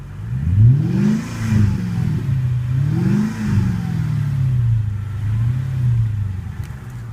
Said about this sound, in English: And here's what the engine sounds like.